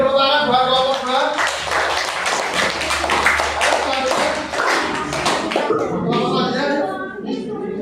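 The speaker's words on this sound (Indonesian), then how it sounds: "Beri tepuk tangan buat kelompok 2." A classroom group claps steadily for several seconds, dense and close, with some voices and chatter mixed in.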